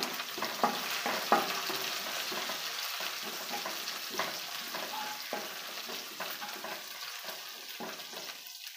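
Curry leaves and green chillies crackle and sizzle in hot frying oil in a pan, a steady frying hiss dotted with small pops, with no talk.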